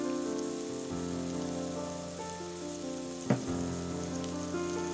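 Soy sauce hits a hot pan with sweet peppers and sizzles steadily, a close, even crackling hiss with background music and a brief clatter midway.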